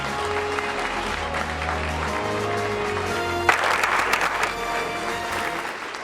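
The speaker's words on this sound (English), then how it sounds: "And now we can give a big round of applause." An audience at a mayoral debate claps steadily throughout, a dense wash of applause that swells slightly partway through.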